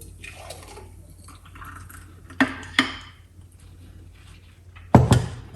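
A homemade energy drink is poured off from a container, a faint trickle of liquid with a few sharp clinks and knocks of dishware standing out over a quiet background.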